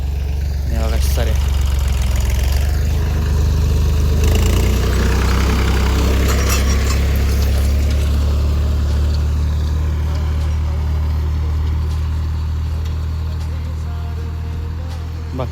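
A tractor engine runs steadily close by, a deep continuous idle-like rumble throughout with people talking over it.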